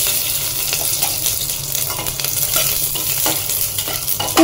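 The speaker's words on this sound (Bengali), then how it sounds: "খুব বেশি ভাজবো না আমি রসুনটা।" Garlic sizzles in a little olive oil with garam masala, a close, steady frying hiss broken by repeated stirring scrapes and taps throughout.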